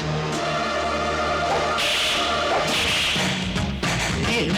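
Whip cracks in a dramatic Hindi movie fight scene, several sharp lashes with swishing whooshes spread across a few seconds over a loud, busy soundtrack.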